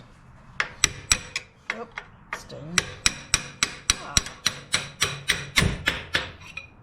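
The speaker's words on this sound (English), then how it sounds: "We will punch it through. Get yourself a nice long drift for this." A long drift punch is hammered through a motor mount bolt on a Harley M8 Touring, with about twenty sharp metallic strikes landing in a fairly steady rhythm, close and loud, and a brief voice heard once.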